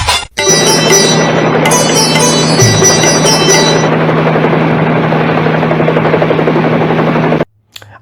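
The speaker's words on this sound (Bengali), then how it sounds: "আর এই হেলিকপ্টারটা দেখুন" A homemade toy helicopter's spinning rotor makes a loud, steady whirring buzz with a high metallic whine, running continuously for several seconds before cutting out abruptly near the end.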